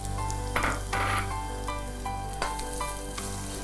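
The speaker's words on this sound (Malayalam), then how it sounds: "എന്നിട്ട് ഈ 1 കപ്പ് തേങ്ങ ചിരകിയത് മാറ്റി വെച്ചതും ഇതിനകത്തിട്ട് ഒന്ന് വറുത്ത് മാറ്റും" Grated coconut fries in ghee in a pan with a steady, loud sizzle, punctuated by a few sharp stirring scrapes of a utensil against the pan.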